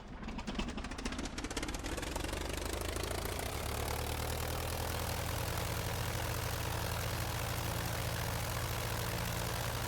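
A Curtiss JN-4 biplane's engine runs loud and steady throughout, a continuous drone with a low rumbling hum that builds and holds as the aircraft takes off, with no voices over it.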